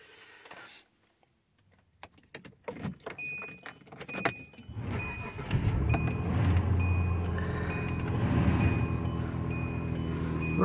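A 2003 Hyundai Santa Fe with an all-wheel-drive V6 and high mileage. Keys jangle and click in the ignition, the engine cranks and catches, then it settles into a steady, close idle with a faint whine.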